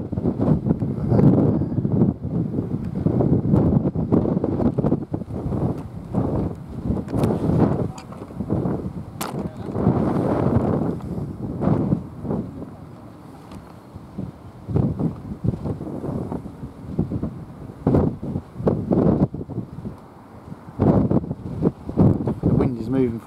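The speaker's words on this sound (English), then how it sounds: "Moving from behind me straight forwards towards that, all the wind's being sucked into that area." Strong wind rushes toward a supercell storm near Blackwell, Texas, buffeting the microphone in loud, irregular gusts while someone talks throughout.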